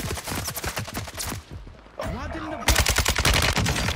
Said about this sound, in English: Getting shot through the fence.